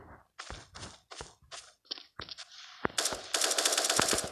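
Rapid gunfire bursts in a video game where a shotgun is in use, dense automatic volleys filling the second half, preceded by a string of sharper separate shots, loud and close with no talk.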